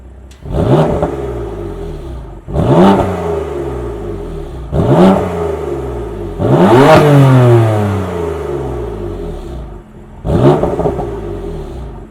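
A BMW M3/M4 with an S55 engine and aftermarket exhaust revs hard five times in a row, each burst rising and falling, loud and close, with short idle gaps between.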